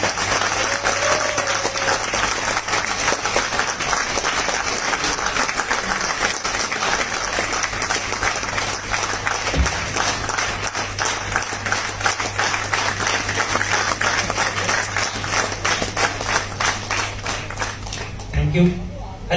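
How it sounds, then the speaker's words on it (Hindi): Loud, sustained applause and clapping fill an audience hall in Jaipur as Dr. Pankaj Verma is welcomed onto the stage. The dense clapping runs steadily for many seconds and thins out only at the very end. "एक बार जबरदस्त तालियों से स्वागत कीजिएगा डॉक्टर पंकज वर्मा।"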